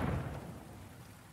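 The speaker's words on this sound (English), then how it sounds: "Amid the thundering rainstorm, Tecumseh's artillerymen batter the paper-th" Heavy rain pours steadily with a deep low rumble of thunder at the start that fades, a dense broadband hiss filling the whole moment without any voices.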